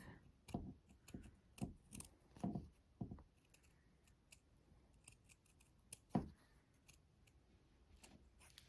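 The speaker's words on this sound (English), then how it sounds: "So I'm just going to cut the oval shape to start with." Scissors cut an oval shape from material for a crocheted amigurumi animal, giving a quick series of close, crisp snips in the first three seconds, one louder snip near the end, and quiet handling noise in between.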